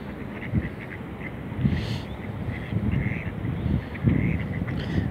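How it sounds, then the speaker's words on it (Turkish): Ducks at a park near a beach, scattered quacks rising every second or so over a rough outdoor wash of wind and water, moderately close. "Şimdi ördek kardeşleri de ziyaret edip"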